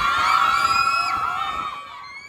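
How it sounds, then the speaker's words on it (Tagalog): High-pitched screaming and cheering from a crowd of fans greeting a South Korean boy band at Terminal 1 of Ninoy Aquino International Airport, loud shrieks sustained then tapering off toward the end. "Sinalubong sila ng malakas na hiyawan ng fans sa Terminal 1 ng Ninoy Aquino International Airport kahapon."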